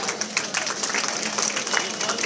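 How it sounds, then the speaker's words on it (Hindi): Audience at a political rally in Malegaon clapping continuously, a busy, close, even patter of many hands with no pause. "तालियां बजाए भाई"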